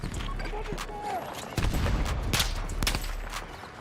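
Gunfire in a video game's sniper battle, scattered sharp shots and bursts cracking through a rumbling battlefield backdrop, with a voice speaking over parts of it.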